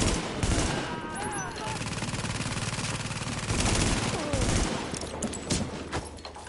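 M4 rifle fire in the video game The Division, rapid sustained bursts crackling over dense game noise, loud and continuous with brief dips between volleys.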